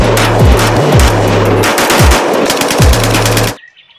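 Toy army sniper rifle firing electronic sound effects: loud, rapid crackling bursts over a buzzing tone that dips in repeated sweeps, continuous for about three and a half seconds before cutting off abruptly.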